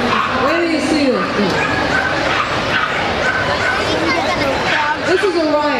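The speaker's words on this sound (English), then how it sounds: "This is Orion. Champion Ashcroft Orion. Your therapy dog and Earthdog" A Bedlington Terrier at a Meet the Breeds earthdog demo yips, barks and whimpers in rising and falling whines, close and lively, over the chatter of a crowd.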